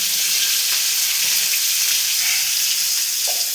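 Potatoes frying with turmeric in a hot pan give a steady, close sizzling hiss that holds even and loud throughout, with faint stirring scrapes underneath.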